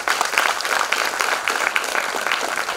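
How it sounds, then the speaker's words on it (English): Audience applause at a welcoming ceremony for a pro vice chancellor at VIT Chennai, dense continuous clapping from a large crowd, fairly loud and close throughout. "Give him a big applause."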